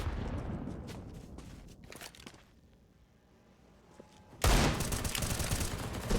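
M4 rifle fire in an esports shooter match: rapid bursts of shots up front, a quieter lull, then a loud sustained stretch of dense gunfire to the end.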